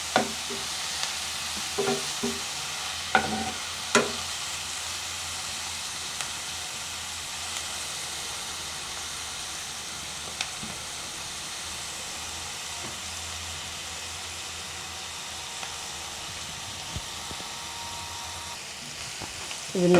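Onions and spices for chicken biryani sautéing in a pan at home, a steady soft sizzle with occasional spoon scrapes and stirring clicks early on, fairly quiet and continuous.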